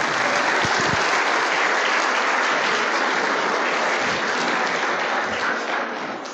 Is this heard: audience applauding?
yes